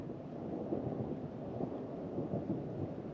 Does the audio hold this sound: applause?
no